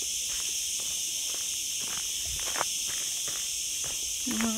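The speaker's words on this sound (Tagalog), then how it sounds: "Ang sarap pakinggan ng kuliglig." Crickets chirp in a forest in Mallorca, Spain, a steady high shrill trill that carries on throughout, with soft footsteps crunching at intervals beneath it.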